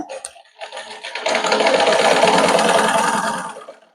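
A sewing machine stitching blouse fabric, a short start followed by a steady, loud, rattling mechanical whir that runs for a couple of seconds and then winds down, close by, with no speech.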